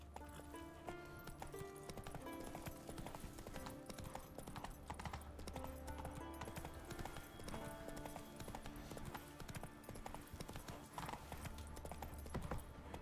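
Hooves of the horse Roach clip-clop in a video game at a steady walking rhythm, with game music and ambience running underneath.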